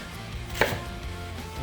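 A knife chops vegetables into rough one-inch chunks for kimchi, one crisp close thunk against the board over a low background hum.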